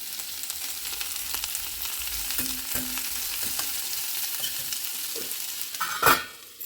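Vegetables for fried rice fry in a pan with a steady, close sizzle, broken by a few stirring scrapes and a louder clatter near the end.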